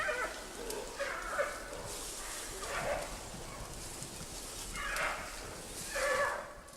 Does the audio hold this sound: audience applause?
no